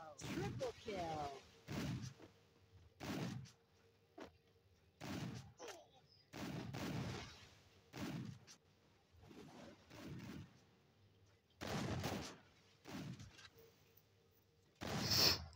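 Gunfire in a shooting video game: a string of sharp, loud bursts of shots in separate volleys spread across the stretch, with quieter game ambience between them.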